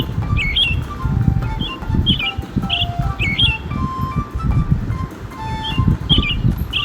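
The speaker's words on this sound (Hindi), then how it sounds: "रॉबिन की साउंड जानते हैं कैसी होती है?" Repeated bright robin chirps and short song phrases sound in a regular pattern, fairly close and clear, over a steady low rumble of background noise.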